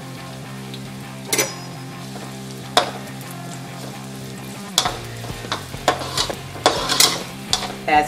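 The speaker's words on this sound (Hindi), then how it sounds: "प्याज को हम 1-2 मिनट के लिए फ्राई कर लेंगे।" Onion fries in a few tablespoons of oil in a large kadai, with a steady sizzle broken by sharp clinks and scrapes of a spoon against the pan.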